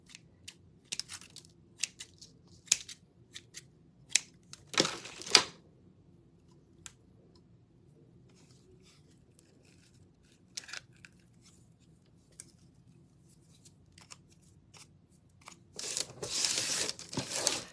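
Scissors snipping and trimming Excelsior on the back of a handmade fall fridge magnet, giving scattered short clipped cuts with a denser burst of crisp rustling and cutting near the end, close and otherwise quiet.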